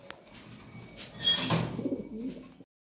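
European Lahore Sherazi pigeons cooing at close range, a soft, low, rolling coo that swells in the middle and tapers off, with faint rustling around the birds.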